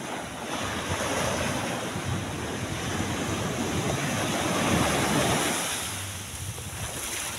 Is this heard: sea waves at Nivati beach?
yes